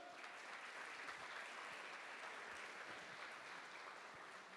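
A church congregation applauds together, a steady, dense wash of clapping from many hands that holds evenly throughout, with no voices standing out.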